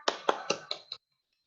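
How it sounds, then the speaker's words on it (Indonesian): Five quick, crisp hand claps ring out close and fairly quiet in an even rhythm, followed by silence. "Tepuk tangan"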